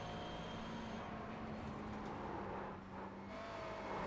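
A GT3 race car on its last lap at Oulton Park, in sixth gear heading down over the hill into Knickerbrook, with a steady, fairly faint engine drone that holds across the whole stretch.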